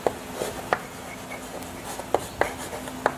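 Chalk or marker writing on a classroom board during a physics lesson, heard as a few sharp, brief taps and strokes spaced irregularly over a quiet room tone, close and moderately soft.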